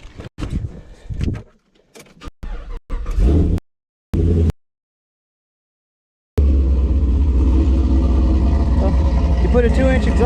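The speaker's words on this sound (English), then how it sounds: "Put a 2-inch exhaust on this thing, some headers, and it sounds fucking amazing, right?" After choppy speech and silence, a car engine fitted with a 2-inch exhaust and headers fires up and settles into a loud, deep, rumbling idle close by.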